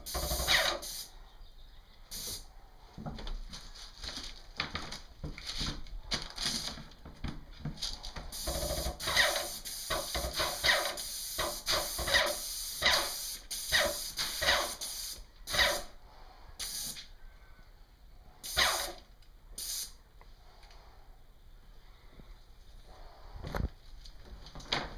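An airless sprayer fitted with a Rack X 310 fine finish tip sprays lacquer onto cabinets, heard as intermittent hissing bursts of varying length with short pauses between them, fairly quiet and close.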